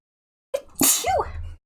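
A single sharp sneeze at close range, a quick intake followed by a loud explosive burst that trails off into a short voiced tail, alone in otherwise silent surroundings.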